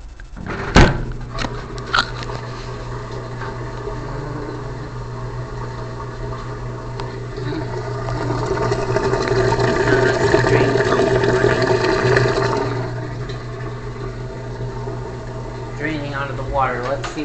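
A Maytag washing machine drains, water gushing steadily with a low mechanical hum, swelling in the middle and fading, with a knock near the start.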